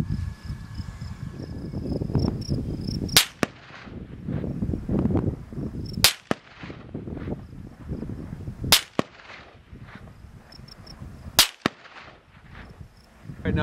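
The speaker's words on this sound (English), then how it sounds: "we'll start off with the little Romanian AK. We'll zing a couple past and see how she goes" Four sharp, loud rifle shots from a Romanian AK crack past at a firing range, spaced a few seconds apart over steady outdoor background noise and insect chirping.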